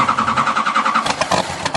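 Road traffic engines rumble near a busy street at the start of the school year, a loud continuous mid-pitched motor drone with passing surges and no voices.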